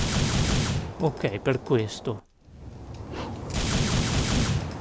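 Rapid gunfire in the Devil May Cry video game, a dense, loud rattling burst that fills the first and last seconds, broken by a short stretch where someone speaks.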